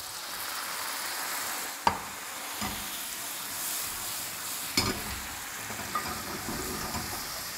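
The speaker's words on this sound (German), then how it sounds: "dann löschen wir ab mit unserem Weißwein" About 50 millilitres of white wine hits a hot pan while deglazing for a veal and mushroom cream sauce, giving a steady close sizzle with stirring scrapes and a few sharp clacks of utensil against pan.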